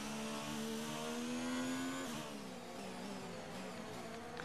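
Race cars in F1 2019 approach on track during a race, a steady loud engine drone with a pitch shift midway as cars pass close by.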